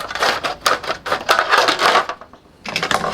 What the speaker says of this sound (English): I'm just going to get my scissors and cut it